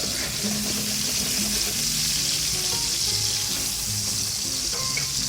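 Chicken sautés in a pan at low temperature, giving a steady, gentle sizzle with soft crackles and faint scraping of stirring throughout, with no talking.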